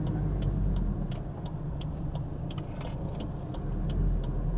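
A 1991 Toyota Hilux double cab (LN106) driving along with its engine running through the gears, a steady low road rumble with faint rhythmic ticks.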